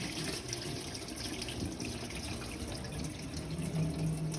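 Rice being washed in water for upside-down chicken and cauliflower maqlouba, a continuous soft splashing and running-water wash with faint swirling, fairly quiet throughout.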